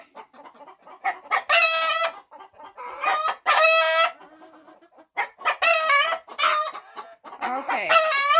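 A hen in a farm coop clucks and squawks in a run of loud, close bursts with brief quiet gaps between them, no voices over it.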